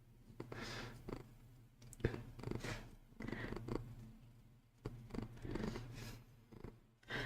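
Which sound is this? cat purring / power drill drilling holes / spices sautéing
cat purring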